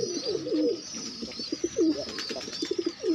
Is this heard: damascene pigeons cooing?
yes